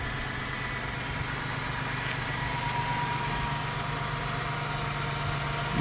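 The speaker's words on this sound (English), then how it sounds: "Let's run the engine." A 2019 Ford Transit 150 medium-roof cargo van idles with a steady, even engine hum and low vibration, heard close and unbroken throughout.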